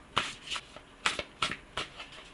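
A deck of oracle cards is shuffled by hand in six quick riffling bursts with short pauses between them. The bursts are crisp and close, with no one speaking.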